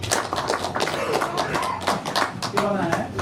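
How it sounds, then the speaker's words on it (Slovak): An audience claps steadily at a strongman competition, the Karpatský medveď 2025 event, with a voice speaking over the applause. "A dáme mu potlesk."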